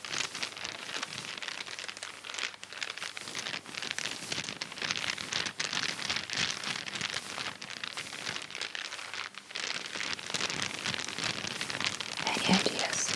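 Small dice rattle and tumble inside a hollow vegetable shell, a continuous dry crinkly shaking close to the ear with brief pauses, soft and steady without speech.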